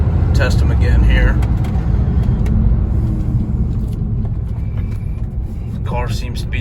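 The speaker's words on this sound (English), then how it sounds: "Car's running great." Turbocharged VW Beetle project car running on a test drive, a steady close engine rumble and road noise throughout, with a person talking briefly over it.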